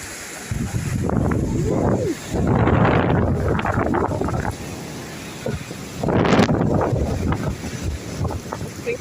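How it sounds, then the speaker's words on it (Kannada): Strong wind with rain outdoors in Bengaluru roars in heavy gusts that swell and fade, buffeting the microphone up close, loud and rough with a constant hiss beneath. "ಸಖತ್ತು ಗಾಳಿ ಮಳೆ"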